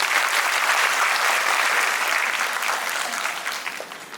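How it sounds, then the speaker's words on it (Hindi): A ceremony audience applauds at a felicitation of newly literate adults, a loud sustained wash of clapping that tapers slightly toward the end. "तो आप अपने लिए जोरदार ताली बजा सकते हैं।"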